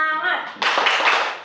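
A group of schoolchildren in a classroom clap together briefly after a voice, a quick close burst of hand claps.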